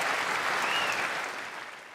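Dense, loud applause from a large crowd greets the USA men's gold-medal-winning hockey team as it skates in, a sustained clatter of clapping that eases off slightly toward the end.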